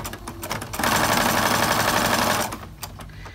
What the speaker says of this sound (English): Just lift up my foot and slide the new piece under and start sewing.